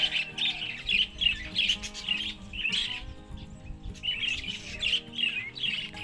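A flock of birds in a natural aviary with a mango tree chatters and squawks nonstop, with overlapping harsh calls and chirps coming close and loud in bursts. No voices can be heard.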